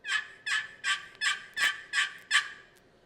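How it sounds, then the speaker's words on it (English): A series of seven evenly spaced turkey hen yelps from a box call, loud and close, with a brief sharp click partway through. "That's just a yelp, a hen yelp."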